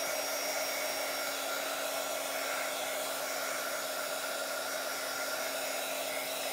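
A hair dryer blows steadily on paint in a Bible journal page, a loud, constant whirring hum with a fixed tone that runs throughout, close by and with no voices.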